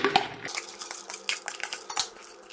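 Dal poured into a metal pressure cooker makes a rattle and clatter, followed by a series of scraping, clinking spoon-on-metal taps at irregular intervals.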